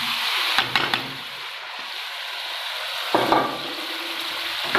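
Tomatoes go into a hot sizzling pan while aloo matar is cooked, giving a steady frying hiss with a few sharp clatters and a louder burst of sizzle partway through, and no talk over it.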